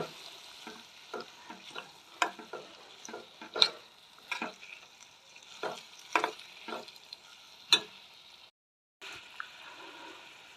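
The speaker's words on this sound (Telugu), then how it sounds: "టమాటాలు బాగా వేగాలి" Tomatoes frying in a pan for a dried fish curry, a low steady sizzle broken by repeated spatula scrapes and taps at an uneven rhythm, close and quiet, with a brief silent gap near the end.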